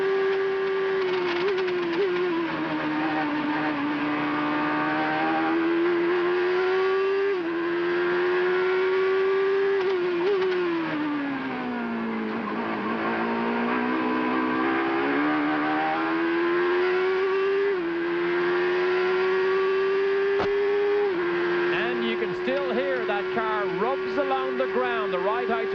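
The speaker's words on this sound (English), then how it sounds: "Listen to his gear changes as he heads down into the first corner." A 1992 CART IndyCar race car at Elkhart Lake's Road America screams along at high revs, its engine pitch climbing and then snapping down at each gear change as it heads into a corner, loud and continuous.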